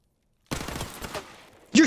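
Desert Eagle pistol fire in a Call of Duty shooter game, a short sharp burst of close shots after silence, with a brief voice exclamation at the end.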